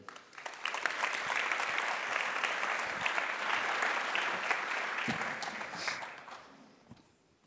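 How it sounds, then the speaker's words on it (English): Warm applause from an audience at an anniversary demo day swells quickly, holds as a steady wash of clapping, then fades away over several seconds. "please give them a warm applause"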